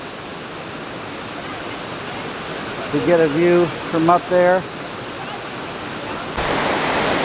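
Waterfall in Ithaca, New York, a steady broadband rush of falling water that runs the whole time, with a person talking briefly partway through and the roar growing slightly louder near the end.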